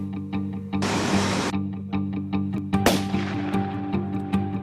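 A single sharp dart rifle shot is fired at a wild animal in the bush, cracking over a steady droning engine hum after an earlier burst of rushing hiss.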